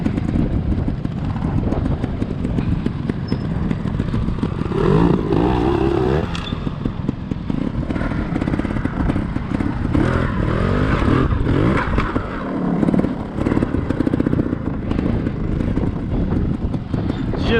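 Trials motorcycle engine revving under light throttle as a rider learns clutch control, rising and falling close by amid steady wind noise on the microphone, with a coach speaking over it.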